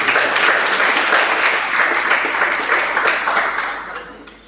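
An audience at a Hindi Jain religious talk gives loud, dense clapping that holds steady and then tapers off toward the end, with no speech over it.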